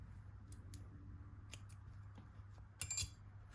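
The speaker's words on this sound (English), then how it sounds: "you are going to chain one and cut your yarn" Scissors cutting yarn at the end of a crochet row: a few quiet clicks early on, then a brief, louder cluster of snips near the end, close up over a low background hum.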